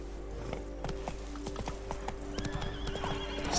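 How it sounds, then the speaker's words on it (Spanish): A horse gallops with rhythmic clip-clop hooves and lets out a whinny in The Witcher 3, the game sound close and clear over a low rumbling bed. "Vamos con el caballo."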